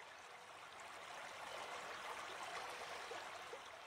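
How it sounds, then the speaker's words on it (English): River water flowing steadily past a quiet bank, a soft, even rush that stays faint and continuous throughout with no other sounds. "you can hear the soothing sound of the water as it flows steadily past"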